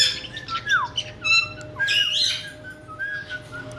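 Several pet birds indoors give loud, close squawks and bright whistled calls in repeated bursts, with no talk over them.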